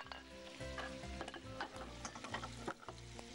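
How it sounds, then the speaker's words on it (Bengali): Curry leaves fry in hot oil in a home-style kitchen, giving a steady crackling sizzle with stirring scrapes and clinks that carry on throughout, close and fairly loud, with no talking. "আমরা ওখানে কারি পাতাটা ভেজে নিই।"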